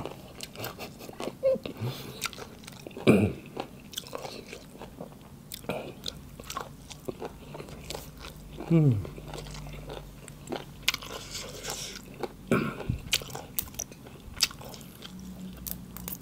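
Crunchy golden apple snail meat being chewed close up, with several loud crisp bites and crunches scattered among quieter mouth sounds and occasional rustling.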